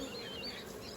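Agitated honeybees at a Flow hive early in the morning give off a dense, continuous close-up buzz, many wings droning together without pause.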